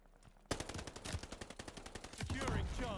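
Rapid automatic gunfire from a gun in the Call of Duty Vanguard video game, a close, sharp burst of repeated shots that begins abruptly and continues steadily with no talking.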